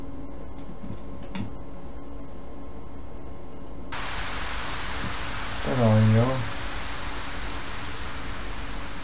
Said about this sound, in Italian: volevo abbassare un po' l'audio della pioggia